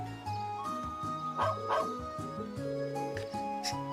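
A dog in the video game Trails of Cold Steel gives several short yips and barks over a background of game music with a low bass line.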